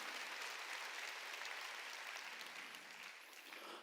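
A church congregation clapping together after a sermon. The applause is faint and distant but dense and steady, thinning slightly toward the end, with no talking.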